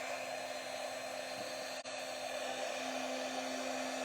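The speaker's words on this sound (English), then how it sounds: "we want to heat this tool up just a little bit. And you have to be careful because it's very hot. It's going to be noisy." A heat embossing tool blows hot air in a steady, fairly quiet whirring hiss with a constant hum. It breaks off for an instant near the middle and then carries on unchanged.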